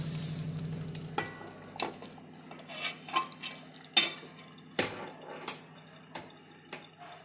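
A lid set onto a pan of prawn malai curry, with a short sizzle giving way to a series of distinct metallic clanks and taps of cookware, each sharp and close, then quiet.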